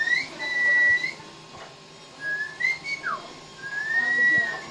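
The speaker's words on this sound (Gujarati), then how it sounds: "વગાડો સીટી પપ્પા" A father whistles a melodic tune indoors, a few clear rising and sliding phrases with short pauses between them, close and fairly loud with no talking.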